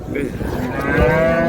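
A cow at the Raniganj cattle market in Dinajpur, where dairy cows and calves are sold, lets out a loud, close, drawn-out moo that swells toward the end.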